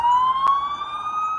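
An ambulance siren wails in a crowded urban refugee camp during fighting, a steady tone slowly rising in pitch, fairly loud and near, with one sharp click partway through.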